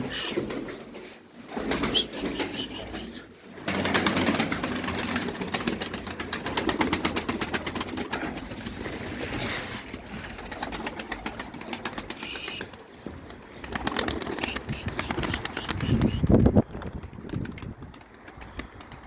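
Pigeons coo and rustle nearby, with soft wing flutters and a low engine hum in the background.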